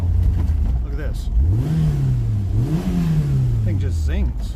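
An old Italian car's engine revs up and falls back in two sweeping surges, then holds a steady drone. It is loud and close throughout.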